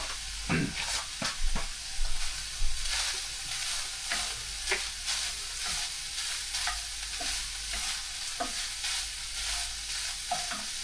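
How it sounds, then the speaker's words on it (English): Garlic goes into a pan of beef korma curry, setting off steady sizzling and frying with repeated stirring scrapes and clatters, close and continuous, with no talking. "let me just go and add this garlic quick"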